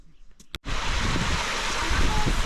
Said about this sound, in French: on est en haut des cascades. Là où elle se jette dans le vide.